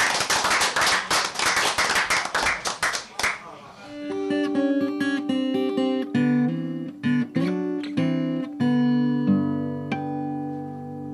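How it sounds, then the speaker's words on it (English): Audience applause at a quiz night, a burst of dense clapping that fades after a few seconds into tonal musical notes. "Give them a round of applause, please."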